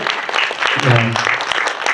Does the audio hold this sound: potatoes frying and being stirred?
no